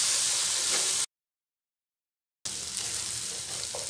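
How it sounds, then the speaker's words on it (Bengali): Ginger garlic paste frying with onions for paneer bhurji, a steady broadband sizzle and hiss that cuts out to silence for over a second, then resumes at the same close, even level. "পেঁয়াজের সাথে আদা রসুনটাকে ভেজে নেব।"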